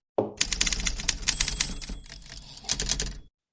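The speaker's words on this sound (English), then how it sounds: "I think we're ready for the typewriter." A typewriter sound effect: rapid, close mechanical key strikes clatter in quick uneven bursts, pausing briefly midway before a final flurry, then stopping cleanly.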